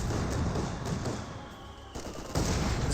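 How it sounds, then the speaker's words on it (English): MG-34 machine gun fire in Company of Heroes 2, a dense, continuous battlefield roar of rapid gunfire with other weapons and explosions mixed in, loud and sustained, swelling near the end. "MG-34 firing away."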